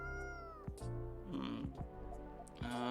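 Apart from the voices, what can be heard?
cat meowing in the video game Coffee Talk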